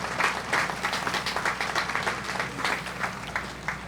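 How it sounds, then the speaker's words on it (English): Crowd applause at an outdoor July 4th patriotic program in Hamilton, steady clapping from many hands sustained throughout, with no talk over it. "Round of applause for Robert W."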